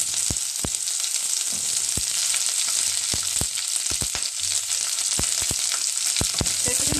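Onion, urad dal, dried chilli and garlic fry in hot oil with a loud, continuous sizzle, broken by frequent sharp spatula scrapes and clicks against the pan.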